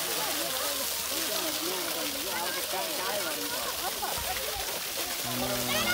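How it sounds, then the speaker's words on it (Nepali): Flowing water rushes steadily at the Kokaha drinking-water channel in Dharan, Nepal, where people bathe and splash, while voices talk and call out over it. "नुहाउने काम पानीमा रमाउने यस्तै कुराहरू चाहिँ भइरहेको छ"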